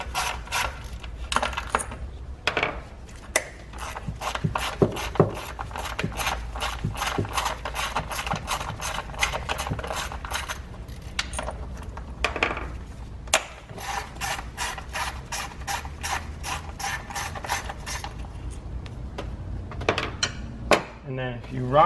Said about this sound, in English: Remove the bolt.